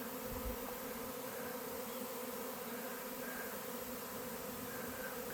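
A bee swarm buzzing steadily as the insects return to their hive outdoors, a dense continuous drone close by with no voices over it.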